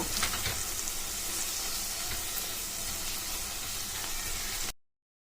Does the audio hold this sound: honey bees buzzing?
no